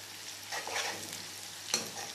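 Cumin and red chili tempering poured into kadhi sizzles in a soft, brief crackling burst that swells, fades, and flares again with a sharp hiss, fairly quiet and without talk.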